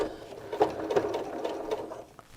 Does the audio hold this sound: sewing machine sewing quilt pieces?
yes